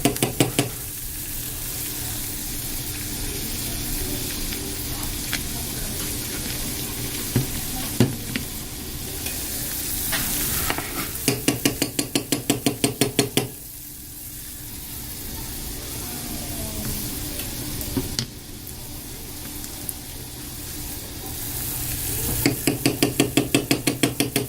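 A small spoon stirs a thick homemade hair conditioner mixture, making repeated quick scraping and clicking strokes in bursts against the container, close and fairly loud, with no talking.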